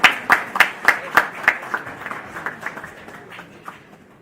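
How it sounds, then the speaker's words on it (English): Conference audience applauding at a felicitation, with sharp, evenly spaced claps that are loud at first and then thin out and fade into scattered lighter claps. "Can we have a round of applause"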